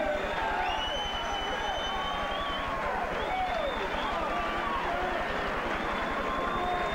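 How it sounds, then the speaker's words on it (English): Boxing arena crowd cheering after a hard-fought match, a broad, sustained roar of voices and applause, with a commentator's excited speech running over the top. "The crowd is on its feet."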